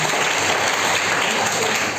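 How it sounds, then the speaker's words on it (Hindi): An audience claps for a 12th-grade student at a children's festival, a brief dense burst of applause, loud and steady throughout. "बहुत बहुत तालियां बजाएं इनके लिए"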